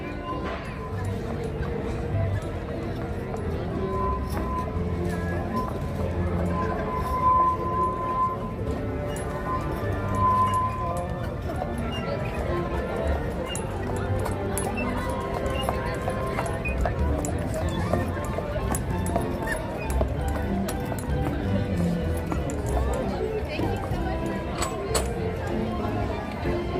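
A real horse arriving at Disneyland California Adventure, its hooves clip-clopping steadily beneath dense crowd chatter, park music and people talking nearby.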